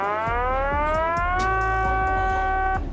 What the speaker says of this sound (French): j'ai même programmé